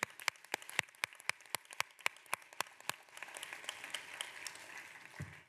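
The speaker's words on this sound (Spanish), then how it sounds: "Un fuerte aplauso." A burst of applause at a congress in Madrid, starting as a dozen or so distinct sharp claps in a quick beat, then swelling into a denser patter of many hands.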